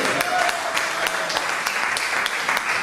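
A congregation in a French-speaking church applauds, with dense, steady clapping filling the whole room for about three seconds without a break.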